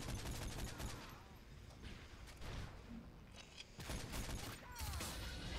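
MK14 rifle fire in Call of Duty MW3, rapid sharp shots in quick bursts with brief pauses between volleys, fairly close and steady.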